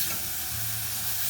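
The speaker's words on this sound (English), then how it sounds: "We got our bacon in here sizzling away." Bacon sizzling in a pan during German home cooking, a steady close frying hiss with faint crackle throughout, fairly quiet and unbroken, with no voices.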